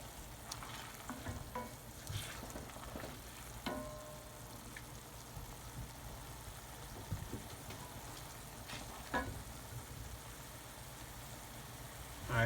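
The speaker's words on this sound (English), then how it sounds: "I want to pretty much leave this on the fire until that wine pretty much evaporates out there." Mushrooms and white wine simmer in a pan over an open flame, giving a steady low sizzle and bubbling that runs throughout, with occasional scrapes and clinks as the contents are stirred.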